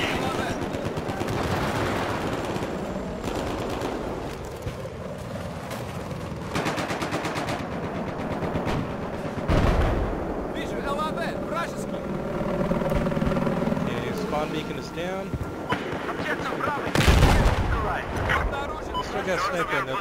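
Battlefield 4 combat with bursts of machine-gun fire and scattered gunshots, a helicopter droning and loud booms at intervals, over continuous battle noise with voices talking.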